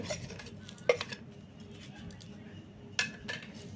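A utensil stirs lemon pickle ingredients (cut lemons, salt and turmeric) in a dish, producing a soft scraping bed with a few sharp clinks against the vessel, fairly quiet and close.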